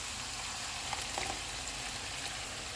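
Ginger and garlic paste frying in hot oil for mutton curry gives a steady, close, hissing sizzle, with faint stirring scrapes and no talking.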